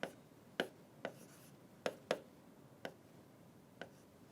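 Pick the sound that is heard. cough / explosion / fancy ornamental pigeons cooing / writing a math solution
writing a math solution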